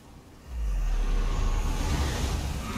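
A storm rises in the Elder Scrolls Online Greymoor world, with a deep rumbling roar swelling in after a quiet start and holding loud and dense, like sustained thunder and wind.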